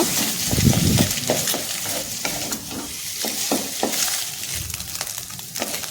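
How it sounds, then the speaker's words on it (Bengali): An egg is scrambled in a hot pan, sizzling steadily while a spatula makes repeated scraping strokes in a loose rhythm. The sound is close and fairly loud, with no talk. "ডিমটা ঝুড়ো ঝুড়ো করে ভালো করে ভেজে"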